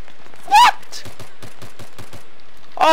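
Machine gun fire in Battlefield 3 multiplayer team deathmatch on Noshahr Canals: a steady run of about a dozen evenly spaced sharp shots, with a man's loud exclamations breaking in at the start and end.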